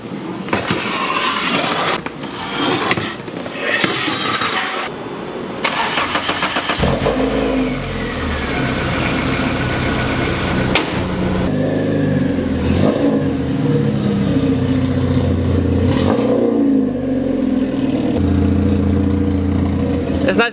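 Engine of a Lincoln Mark III car running steadily while driving, a continuous loud mid-pitched drone with occasional revving swells, following a brief stretch of rustling and handling noise at the start.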